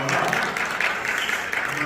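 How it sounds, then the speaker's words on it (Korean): Church audience applauding a pastor at an education briefing, a brief burst of steady clapping at moderate loudness with a voice speaking over it. "우리 원장님 최광현 목사님께 감사의 박수 드리겠습니다"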